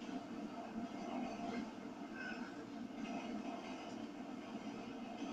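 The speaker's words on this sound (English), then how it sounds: "There's a train right by you." A GTA 5 train rumbles steadily past close by for several seconds, a continuous heavy rolling noise with faint clatter.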